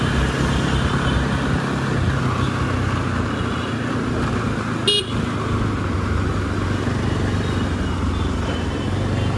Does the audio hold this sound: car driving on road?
yes